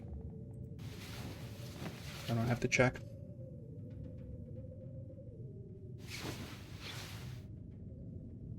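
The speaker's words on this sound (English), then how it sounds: "You can kind of hear it's windy outside." Wind blowing outside a shelter in the survival video game The Long Dark, a steady low rush running through the whole stretch with two louder gusty swells, while someone talks briefly over it.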